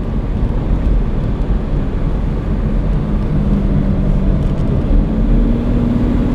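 A restored 1972 Jaguar E-Type V12 coupé with a 5.3-litre V12 engine running, a steady low rumble heard close with some wind noise, no talk over it.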